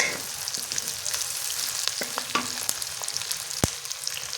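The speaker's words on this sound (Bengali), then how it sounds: "পেঁয়াজটা ভাজা হয়ে আসছে" Onions sizzle as they brown in oil in a pan for a cauliflower dish. The frying hiss is steady and fairly soft, with scattered clicks and taps from stirring.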